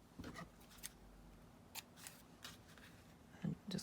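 Scissors snip through paper at an angle for a mixed media folio, a few quiet, brief cuts spaced apart with soft rustling between them, close and faint with no talking.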